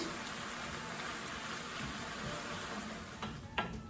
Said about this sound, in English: my meat is really nicely browned